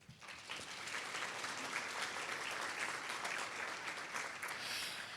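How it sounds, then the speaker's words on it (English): An audience at a national kidney patient meeting applauds in thanks to sponsors during opening remarks: a continuous, even wash of clapping, quiet and somewhat distant, with no talk over it. "So please join me in a round of applause, thanking them for their support of this year's meeting."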